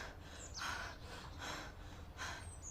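A voice imitates an exhausted donkey panting for breath, with several quick, breathy gasps and snorts repeated in a loose rhythm, close and fairly soft.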